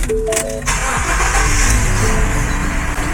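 Ford car engine cranking briefly and catching, then settling into a steady running rumble, close and moderately loud.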